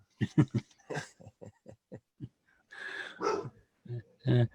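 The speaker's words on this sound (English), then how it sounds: "Sorry, the dogs are barking at the moment." Dogs bark in a quick, uneven series of short yaps and whines heard through a call connection, with a few longer, rougher cries in between and no talk over them.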